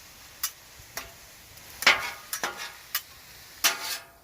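Sharp metal scraping and chopping strikes as steak is chopped on a hot griddle, coming in irregular bursts over a faint steady sizzle.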